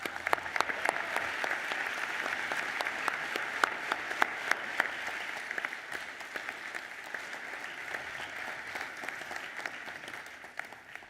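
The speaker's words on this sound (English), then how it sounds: "I invite you to show your appreciation with a round of applause." Graduation ceremony audience applauds at a university education, psychology and social work college, a long steady stretch of many hands clapping in a large hall that slowly fades toward the end.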